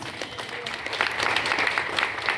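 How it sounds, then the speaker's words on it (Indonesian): A crowd at a church revival meeting claps steadily and loudly throughout, a dense wash of many hands with no pauses. "Tepuk tangan buat Tuhan Yesus."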